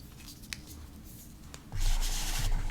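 A broad-nib fountain pen with a wet, generous ink flow scratches across paper, soft and close, with a few light taps early on and a fuller, steady rasp of writing strokes in the later half.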